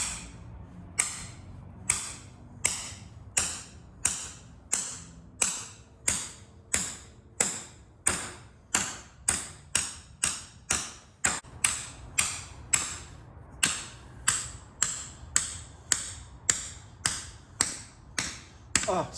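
A bolt is hammered into a bread-packed hole while work is done on a car transmission, about thirty sharp metallic strikes at a steady, fairly quick rhythm, close and clear, with a few short gaps between blows.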